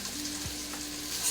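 Flour fries and sizzles in a pot with softened aromatics as the base for beef ramen, a steady gentle hiss with a brief stirring scrape, close and alone.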